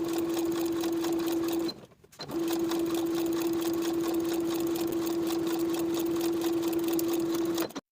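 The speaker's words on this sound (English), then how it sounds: "Sew the sleeve to the armhole with a 3/8 inch seam allowance." A sewing machine runs steadily as a cardigan sleeve is stitched to its armhole, humming in one long even run, briefly stopping near the start before resuming until the end.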